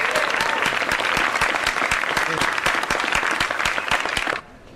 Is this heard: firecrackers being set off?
no